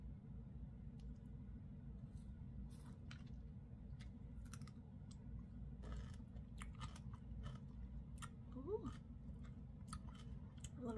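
Crunchy pickles are bitten and chewed up close, with sparse crisp crunches and wet mouth sounds over a low hum, quiet and intimate.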